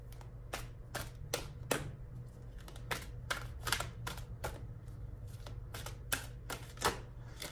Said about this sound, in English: I have never had this hard of a time shuffling a deck.